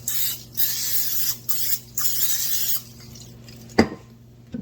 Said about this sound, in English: I'm going to go ahead and hit with some nonstick.